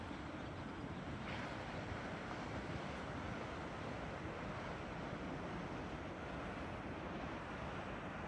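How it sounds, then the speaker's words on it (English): Ocean surf at Lands End in San Francisco rumbles as a constant wash of breaking waves, heard from a distance and mixed with wind buffeting the microphone. "The sound of ocean is so beautiful."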